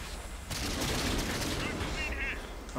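Artillery shells strike in World of Tanks as a sudden loud burst of booming, crackling impacts that rumbles on for a couple of seconds, with faint battle noise before it.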